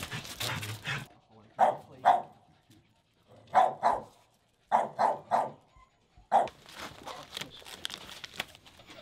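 A small dog at a dog shelter barks in short bursts, roughly eight sharp yaps in pairs and triplets, fairly close and clear, with quieter noise and murmuring voices around them.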